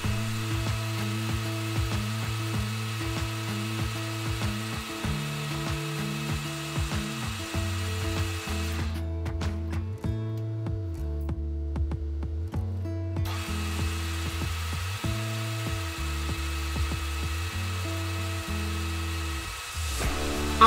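Power tool cutting through a metal plate that will be clamped between a nut and bolt head, a steady loud grinding whine with shifting pitch that drops briefly midway and resumes for the full stretch.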